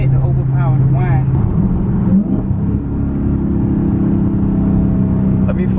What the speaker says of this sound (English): the mid muffler delete makes it sound way more aggressive